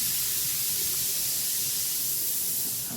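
Sliced onions hit hot oil seasoned with mustard and fennel seeds, giving a loud, steady sizzling hiss. It stays close and constant for about three seconds.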